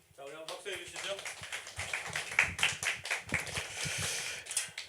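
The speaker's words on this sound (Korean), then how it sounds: "우리 한번 박수해 주시죠" People at a church seminar on child baptism and communion clap after a speaker briefly talks, producing a few seconds of irregular, scattered hand claps from a modest group.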